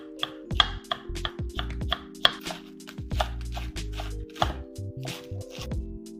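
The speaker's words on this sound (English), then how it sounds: "Cut tomato into bite-sized pieces. Shred cucumber and lettuce." A knife cuts tomato into bite-sized pieces and shreds cucumber and lettuce on a cutting board. Crisp chopping taps come close and loud in quick, uneven bursts.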